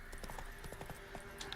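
Horse hooves clip-clop in The Witcher video game, a quick, steady run of soft hoofbeats at low volume.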